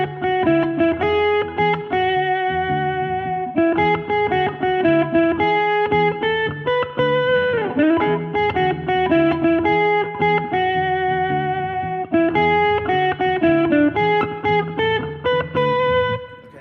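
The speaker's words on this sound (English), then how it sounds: "I'm going to put on some distortion" Distorted electric guitar playing a sustained, saturated riff with a slide or bend in the middle, loud and continuous with no voices.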